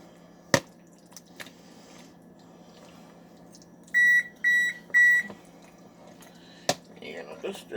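A kitchen oven sounds three evenly spaced electronic beeps, clear and moderately loud, against a quiet room with a few scattered clinks and knocks while baked ziti is being assembled.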